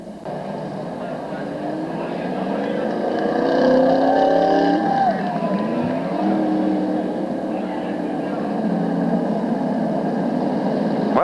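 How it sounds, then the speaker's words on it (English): An SK Modified race car engine drones and swells at Waterford Speedbowl, its pitch rising and sweeping as cars pass, loud and continuous with a commentator talking over it. "John Babalaka going pit side with the 31X car."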